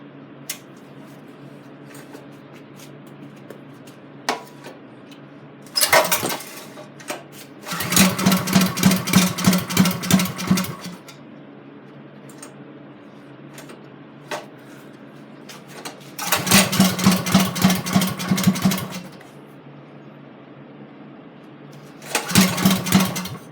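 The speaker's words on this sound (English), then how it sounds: "Alright, it's time to try and start this thing." A race kart engine is cranked repeatedly in several attempts, each a short burst of rapid, chugging pulls that catch briefly and die, separated by quiet pauses.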